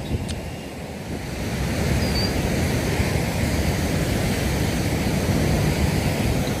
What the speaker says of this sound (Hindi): इतना तेज़ पानी